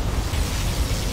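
A particle cannon superweapon blast in Command & Conquer Generals Zero Hour, a dense roaring explosive rumble held loud and steady throughout, with no pause.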